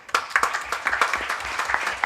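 Applause for award winners at a research awards ceremony, a short burst of close, steady hand clapping from a small group with uneven rhythm.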